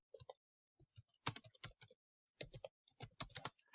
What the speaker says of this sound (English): I'm going to type in looking for graphic designer.